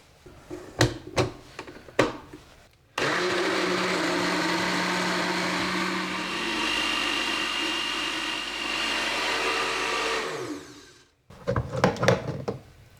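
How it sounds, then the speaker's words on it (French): A kitchen blender whirs steadily for about eight seconds as it mixes an orange blossom dessert cream, loud and close, with clicks and handling noises before and after the run. "maintenant il va nous suffire de mixer tout ça"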